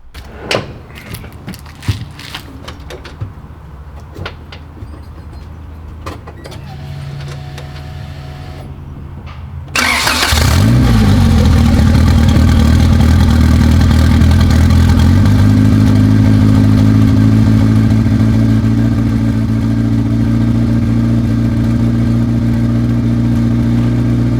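A Honda car fitted with a hood dump exhaust cranks over and catches, then settles into a loud, steady, raspy idle that holds continuously after the start, with a quieter background before ignition.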